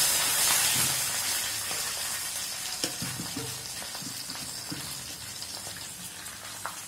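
Chickpea masala kurma being stirred in a hot pan, a steady close sizzle and hiss with occasional scraping knocks of the spoon throughout.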